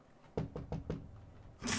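Four sharp knocks on a door, evenly spaced and close, used as a sound effect, followed by a brief brighter burst; no voices.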